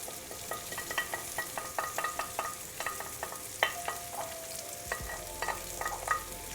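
Mushrooms frying in a pan for a creamy polenta dish, with a steady crackling sizzle and repeated stirring clicks close up, no talking.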